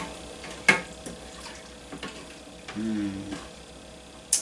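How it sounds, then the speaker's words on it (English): A utensil stirs honey into farro in a pot on low heat, making close, soft scraping and clicking sounds with a brief ringing clank of the pot, and no voices over it. "I'm just going to stir all that together so it incorporates"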